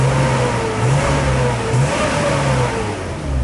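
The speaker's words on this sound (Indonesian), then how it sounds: "Nah, ini bisa teman-teman bisa dengerin suara knalpotnya." BMW E36 engine on its standard exhaust, revving in several smooth rises and falls, fairly close and alone without talk.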